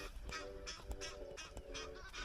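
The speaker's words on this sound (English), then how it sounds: "Egyptian geese" Egyptian geese honk in a quick run of harsh, nasal calls beside the Crocodile River, several birds overlapping, fairly faint and a little distant.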